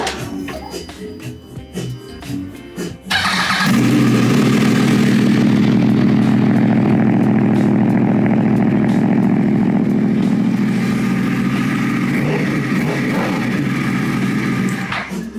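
A Yamaha R1 sport motorcycle with a freshly rebuilt starter cranks and fires up, then settles into a loud, steady, close-up run with a raspy high-revving engine tone that holds for over ten seconds, with no talking.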